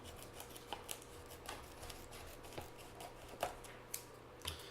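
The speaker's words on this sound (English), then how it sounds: "all you need is some scissors to get in these" Scissors snip open the packet of an apple cider kit with a series of short, crisp cuts spaced irregularly, fairly faint over a steady low hum.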